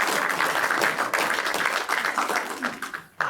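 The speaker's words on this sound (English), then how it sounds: "So I'll give them a round of applause." Audience applause at a play event, a dense burst of clapping that swells and dips before tailing off abruptly near the end.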